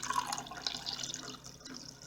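Water is poured into a LifeStraw filter container, a quiet splashing trickle that fades slightly toward the end.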